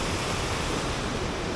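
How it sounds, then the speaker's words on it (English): River water rolling down through a valley near Salleri and Junbesi, a steady broadband rush with no pauses, close and fairly loud. "always love to see the water rolling down through here"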